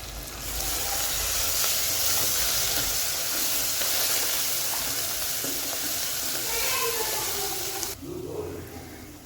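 Onions frying in oil with mint and coriander added for a mutton paya curry, a steady loud sizzle and hiss throughout that drops away abruptly near the end.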